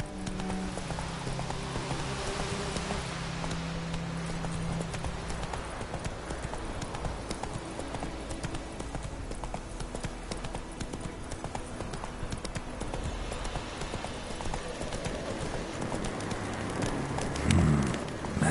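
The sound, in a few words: horse galloping, from the video game The Witcher 3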